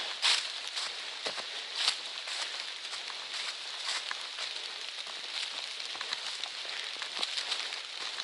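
Steady light rain patters on foliage and gear along a forest trail in Maine's 100 Mile Wilderness on the Appalachian Trail, a soft continuous hiss with scattered louder drops and faint rustling, moderately close and without voices.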